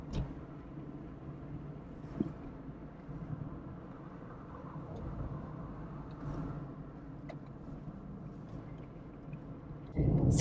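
A 1980s Proton Saga car drives along a rural road, its engine a faint, steady low drone heard from inside the cabin, with a few small knocks and a louder burst at the very end.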